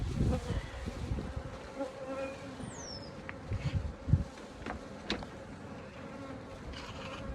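Honey bees buzz all around an open Flow Hive during inspection, a dense, close hum with individual insects darting past, and no voices.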